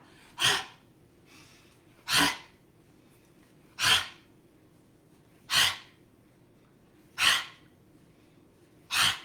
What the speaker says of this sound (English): make a nice loud sound with the exhale